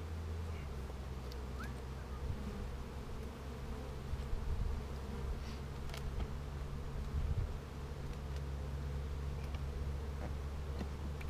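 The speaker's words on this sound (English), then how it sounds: "These are awesome bees, just with as mellow as they are, it's great." Many honey bees hum in a steady, dense drone close by at an open hive, with occasional individual insects buzzing past; no talking.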